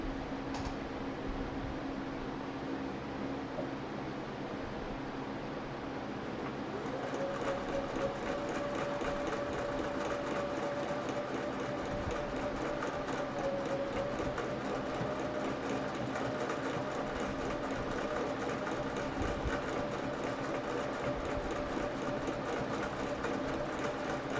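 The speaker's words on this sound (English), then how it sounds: "I guess I could sew the little lines in there." A sewing machine quilting a chicken quilt runs in a continuous, steady mechanical whir with a rapid needle patter, faint at first and then slightly louder and unbroken for the rest of the stretch.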